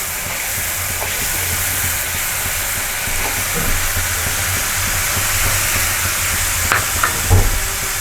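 A batter-like mixture poured into a hot pan while making a tari wali sabzi, giving off a dense, continuous sizzle and steamy hiss at an even, fairly loud level, with a few small clinks near the end and no voices.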